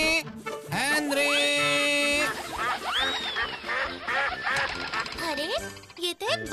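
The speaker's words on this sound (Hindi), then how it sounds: "अरे ये तो एक बतख है।" A cartoon duck quacks repeatedly in loud, nasal bursts over a jingling music background, close up and prominent.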